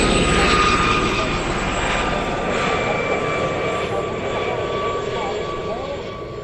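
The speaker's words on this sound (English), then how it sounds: "it's just blocking the sound of these wonderful planes" Airplanes fly by at an air show, a steady, broad engine roar that swells and fades slowly while people talk over it.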